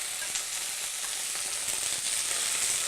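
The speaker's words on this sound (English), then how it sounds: "Now that our pan is hot, we're going to add our salmon fillets to the hot skillet." Skinless sockeye salmon fillets searing in a hot oiled skillet give a steady, close, full hiss of sizzling that holds evenly throughout with no talking.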